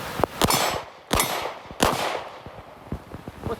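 Glock 45 pistol firing in the rain, three sharp loud shots spaced well apart, each with a ringing tail, close by, with small clinks and taps of falling brass between.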